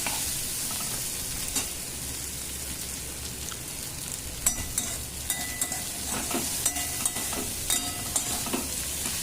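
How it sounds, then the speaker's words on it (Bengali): Okra being stir-fried in a wok, a steady close sizzle with scraping stirs of the spatula against the pan. A few sharper clicks come late on, and no one speaks. "ভেন্ডিটাকে কিন্তু খুব ভালো করে নাড়াচাড়া ভাজছি।"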